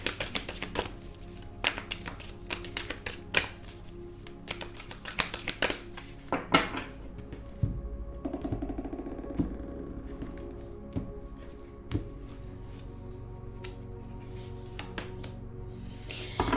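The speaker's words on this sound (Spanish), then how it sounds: "vamos a barajar este oráculo" Crisp, rapid flicking and tapping of oracle cards being shuffled, with bursts of dense clicks and pauses, close by with no talking.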